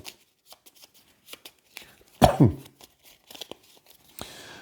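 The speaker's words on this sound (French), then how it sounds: "Je vais remélanger le paquet rencontre." A board game's encounter deck of cards being shuffled, a few light riffles and flicks leading to one louder, crisp burst of card shuffling, then quieter handling close by.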